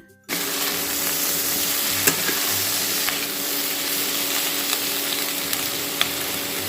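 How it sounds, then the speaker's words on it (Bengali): Onion flower stalks fry in hot oil and get stirred with salt, a steady broadband sizzle throughout with a few sharp clicks of the spatula against the pan, close and fairly loud with no talking. "এখন কেটে রাখা পেঁয়াজ কলিগুলো দিয়ে দিচ্ছি"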